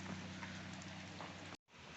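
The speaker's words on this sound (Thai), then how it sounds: "บรรยากาศฝนตกเศร้าๆนะครับ" Steady rain pours down outdoors during a gloomy rainy spell while a fishing net is being woven, a dense even hiss that fills the whole clip and cuts out for a split second near the end.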